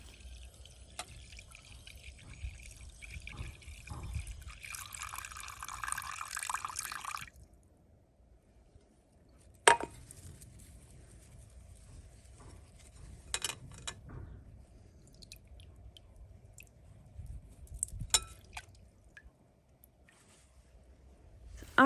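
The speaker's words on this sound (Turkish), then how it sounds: "İlk olarak hazırladığım kahve suyunu posasından ayıracağım. Bunun için ince bir tülbent kullanıyorum." Coffee water strained off its grounds through thin cheesecloth gives faint, intermittent drips and trickles, one steady stretch and then scattered small splashes after a pause, quiet and close with no talking.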